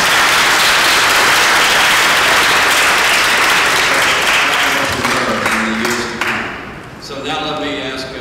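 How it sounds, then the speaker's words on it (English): Dense audience applause at a panel discussion on Asian contemporary art fills the room, then fades toward the end as a voice starts speaking and a few thuds and taps come through. "So please welcome, and a round of applause for Xiaoyu."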